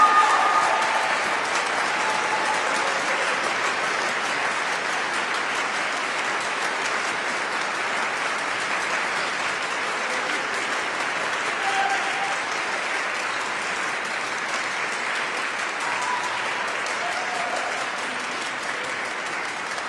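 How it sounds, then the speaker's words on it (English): Sustained audience applause at a Fall Accelerated BSN nursing pinning ceremony, a steady wash of many hands clapping throughout twenty seconds that fades only slightly toward the end. "Please join me in applause"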